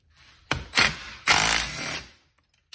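A battery-powered DeWalt 3/8-inch impact wrench runs on a full battery in a few loud, close bursts: two short rattling hits, then a longer hammering run, and quiet after.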